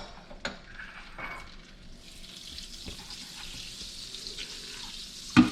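Eggs sizzle in bacon grease and butter in a frying pan for a frittata, with a soft crackling hiss that swells into steady frying, close by, punctuated by a few sharp utensil knocks and no talking.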